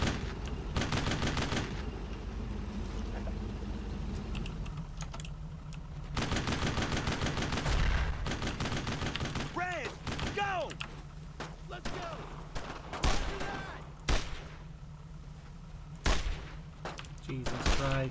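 Gunfire in the World War II game Brothers in Arms comes as rapid bursts of rifle and machine-gun shots, with some volleys near and some farther off, while soldiers shout over the fighting.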